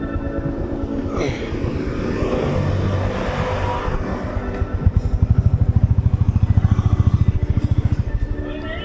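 A truck engine on a hitchhiking ride in Ladakh, Kashmir, rumbles and builds in revs, then settles into a loud, close, pulsing chug for the last few seconds.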